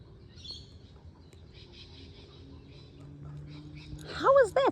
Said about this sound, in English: I was hoping that Kookaburra would do his call